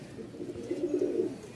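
A pair of racing pigeons cooing softly and close by, a low continuous murmuring coo rising slightly in the middle, with no talking.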